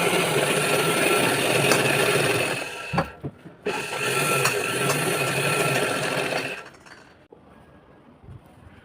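Sewing machine stitching along the neckline of a ladies' blouse, a steady continuous mechanical whir that pauses briefly midway, then runs again before stopping, close and fairly loud with no talking.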